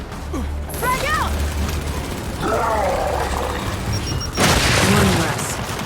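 Heavy boom of a grenade blast in the Gears of War 5 campaign, a loud low rumble near the end following scattered mechanical clatter, with voices talking over the combat.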